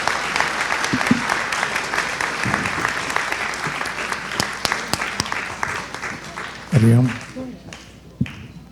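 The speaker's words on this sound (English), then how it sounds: "Can we give them a round of applause?" An audience claps steadily for graduates on stage at an annual day event, a dense sustained applause with brief voices breaking through near the end.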